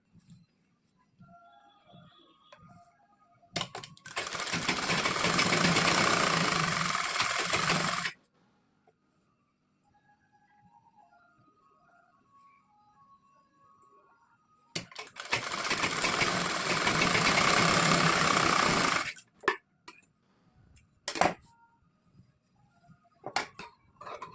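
Sewing machine stitching blouse fabric, with a folded edge run through it, in two sustained loud bursts of about four seconds each, separated by quiet handling of cloth and small clicks.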